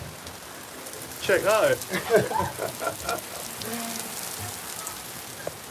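Heavy rain, almost like hail, pours at Caen Castle in France as a steady hiss of drops on surfaces, with a person speaking briefly over it.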